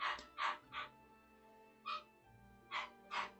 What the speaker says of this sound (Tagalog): Ingay sa background ng aso guys